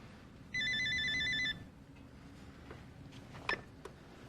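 A telephone gives one loud electronic ring burst lasting about a second, followed by quiet room tone and a couple of faint clicks.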